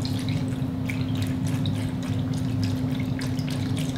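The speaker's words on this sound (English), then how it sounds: "And then we'll add our unsweetened vanilla almond milk." Unsweetened vanilla almond milk poured into a jar with flax seeds, coconut chunks and ice, a steady close trickle and glug over a constant low hum.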